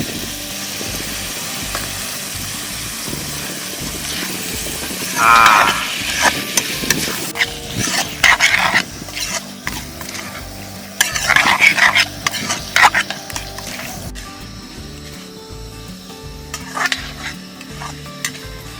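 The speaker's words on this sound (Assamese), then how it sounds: "মছলা পাতি গোটেইখিনি দিয়া হ'ল, এতিয়া আমি মাংসখিনি ভাজি থাকিম।" Goat mutton fried with spices, potato and yoghurt in a pan outdoors, a loud continuous sizzle broken by bursts of metal spatula scraping and clinking, close up with no speech.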